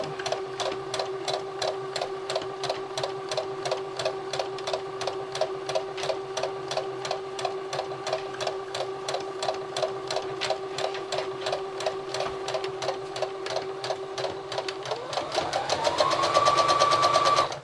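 A sewing machine stitches around a felt cupcake hand warmer with a fast, even needle clatter, running steadily up close before its motor pitch rises near the end.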